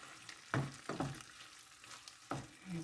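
Chilli con carne with kidney beans being stirred in a pan, a few distinct spoon scrapes and clunks against a low simmering sizzle, close and moderately quiet.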